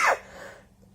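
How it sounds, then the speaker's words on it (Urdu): A single short, sharp cough from a man, close and abrupt, fading into a brief quiet tail. "معذرت کے ساتھ آج کچھ کھانسی زیادہ ہو گئی ہے"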